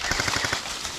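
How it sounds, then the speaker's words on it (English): Rapid bursts of airsoft guns firing at an outdoor airsoft field battle, a quick rhythmic string of close, loud shots with no talking. "Alright, start firing this guy."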